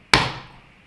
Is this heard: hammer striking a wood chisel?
yes